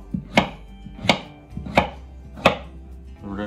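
Squirrel meat chopped by hand into small cubes on a cutting board, four sharp, evenly spaced knife thumps, close and clear.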